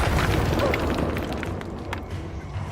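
A fire spell bursts in Hogwarts Legacy, a loud, roaring whoosh of flame with crackling pops that gradually eases over about three seconds.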